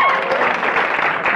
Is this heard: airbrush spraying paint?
no